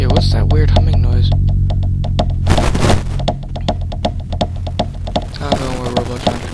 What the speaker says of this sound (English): That weird humming noise.